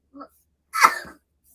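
A baby sneezes once: a small quick intake of breath and then a short, sharp burst, close and clear against silence.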